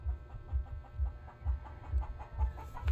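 A chicken cackles close by in a steady run of rhythmic clucks, about two per second, low and fairly soft, with no talking over it.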